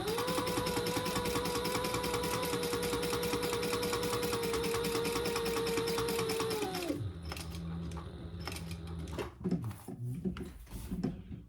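A sewing machine hums steadily while sewing around the outside of a bag, a close continuous whir that stops after about seven seconds, followed by scattered handling clicks and rustles.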